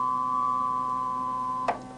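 A steady computer-synthesized tone with a stack of harmonics plays alone and fairly quietly, then a brief click-like burst near the end as a harmonic is switched.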